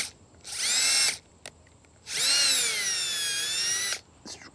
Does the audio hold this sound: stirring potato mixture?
no